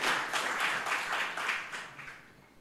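Audience applause at a literary panel discussion, a dense burst of clapping that is fairly loud at first and then fades toward the end, with no talking over it.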